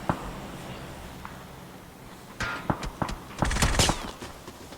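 Gunfire rings out in the battle royale game PUBG, first sparse and faint, then a cluster of sharp, fairly close shots and bursts near the end.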